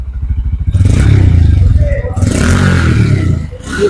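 Exhaust of a 2025 Honda Hornet 125cc motorcycle revving up and easing off, a loud close throaty drone with a rising pulse, heard mixed with speech.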